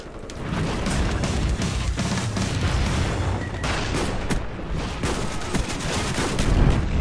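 Black Ops gameplay with dense bursts of rapid gunfire, layered shots and booms crackling continuously at fairly close range.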